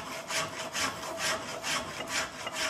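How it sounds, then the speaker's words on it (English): A wood rasp or file works a knife handle in steady back-and-forth strokes, about four rough scraping passes per second, close and moderately quiet. "And a wood rasp, certainly don't want to pull back, or a wood file of any kind"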